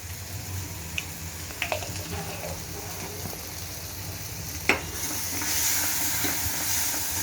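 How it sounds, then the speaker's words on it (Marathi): Spiced vegetables sizzle steadily in a hot pan with chilli powder and chaat masala, soft continuous frying hiss broken by a few sharp clicks of stirring. "थोडंसं परतून घ्यायचं"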